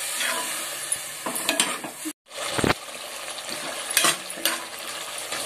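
Chicken curry masala with yogurt frying in oil in a pan, a steady close sizzle broken by scraping stirs and one brief drop to silence.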